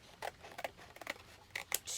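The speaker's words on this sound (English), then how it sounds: "It's like a woven paper. Now it doesn't rip, so I do have to use the scissors" Scissors snipping through woven paper for a mixed-media journal card, several separate sharp cuts spaced unevenly, close and fairly quiet, with no talking.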